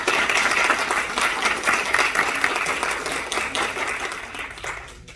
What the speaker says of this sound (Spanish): Damos un fuerte aplauso